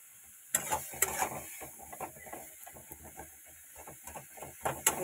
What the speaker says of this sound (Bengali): এবার এটাকে ভালো করে ভাজবো বেশ টাইমটুকু ধরে, মানে পুরো জল শুকিয়ে যাবে ভাজতে ভাজতে।